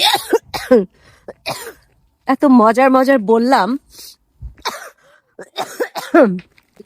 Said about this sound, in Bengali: কালাইটা খেয়ে যদিও আমার কাশি হচ্ছে